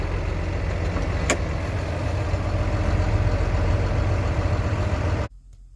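A 15-to-20-year-old semi-truck tractor idles with a steady low diesel rumble, close and continuous, until it cuts off abruptly near the end.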